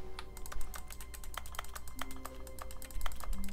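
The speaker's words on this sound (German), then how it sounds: "Ach, das Klickgeräusch ist immer, egal was ich mache" The Stanley Parable plays a constant clicking: dense, rapid, irregular taps much like keyboard typing, steady and close throughout with no speech, and a faint tonal hum beneath.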